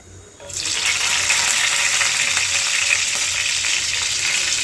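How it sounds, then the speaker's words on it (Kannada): Chopped green chillies drop into about four spoons of hot oil in a pan and burst into a loud, steady sizzle that starts abruptly and keeps crackling without a break. "ಪ್ಯಾನ್ಗೆ ಒಂದು 4 ಸ್ಪೂನಷ್ಟು ಆಯಿಲ್ ಹಾಕ್ಕೊತಾ ಇದ್ದೀನಿ. ಕಟ್ ಮಾಡಿ ಇಟ್ಕೊಂಡಿದ್ವಲ್ಲ ಹಸಿರುಮೆಣಸಿನಕಾಯಿ, ಅದನ್ನ ಹಾಕ್ಕೊತೀನಿ ಫಸ್ಟು."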